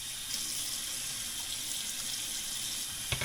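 Hot water runs steadily from a kitchen tap into a sink, a constant hiss and splash at moderate level, ending with a brief clatter.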